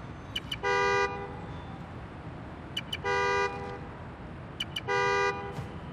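A car horn honks in the open-world game Spider-Man: Miles Morales, three steady half-second toots at even intervals, moderately loud over a busy city hum with faint clicks between.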